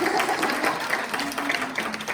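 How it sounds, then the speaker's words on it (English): A church congregation at a Sunday service gives a steady, dense round of applause in a large room, with faint voices mixed in. "we can clap for Mariah"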